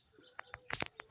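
Pigeons at a home loft give a few soft, faint coos and short calls in quick succession over a quiet background.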